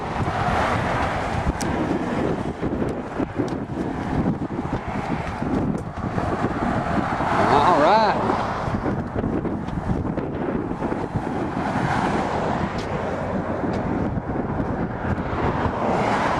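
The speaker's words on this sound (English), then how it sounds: "Real windy." Strong wind buffets the microphone in a constant roar throughout on the Bear Mountain Bridge, New York, and a voice speaks briefly near the middle.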